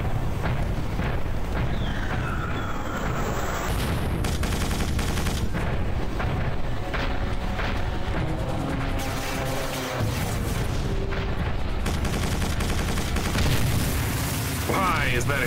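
Explosions and gunfire in the video game Quake 4, with repeated booms and bursts of shots over busy in-game sound effects.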